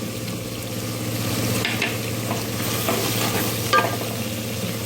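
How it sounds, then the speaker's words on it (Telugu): Chili, coriander and garam masala powders fry in hot oil for a mushroom biryani, a steady close sizzle with soft scraping strokes of stirring and no talk. "గరం మసాలా చికెన్ మసాలా మిక్స్ వేసి బాగా నూనెలో వేయించాలి"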